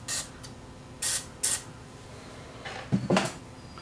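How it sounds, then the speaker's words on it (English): Several short hissing bursts of contact cleaner sprayed on the band selector switch of a Stromberg Carlson 58L antique tube radio, followed by faint clicks and rattles of small parts being handled nearby. "And we'll also spray down the band selector switch."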